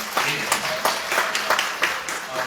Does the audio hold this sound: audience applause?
yes